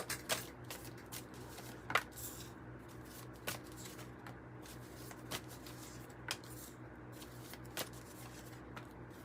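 A tarot card deck being shuffled in a quiet room, with soft repeated riffling and sharp card snaps recurring every second or so, close and fairly faint.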